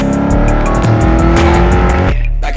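Deep, loud rumble from the V8 exhaust of a Holden HSV VT Clubsport, heard close and steady with a throaty, pulsing character that shifts in pitch before cutting off abruptly near the end.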